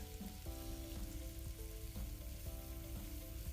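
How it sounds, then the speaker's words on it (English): Three eggs fry for fried rice, giving a loud, constant close sizzle with a faint rhythmic scrape of stirring running through it. "Here I added 3 eggs."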